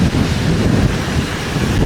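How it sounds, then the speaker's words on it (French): Strong wind in Mykonos, Greece buffets the microphone in a loud, continuous rumbling roar. "On m'avait pas dit qu'il y avait autant de vent en Grèce"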